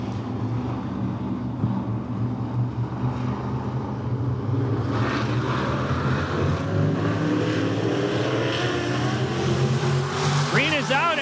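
Modified race cars roar off at the start of a feature race at I-94 Raceway, a loud layered engine drone that swells as the pack accelerates, with an announcer talking over it.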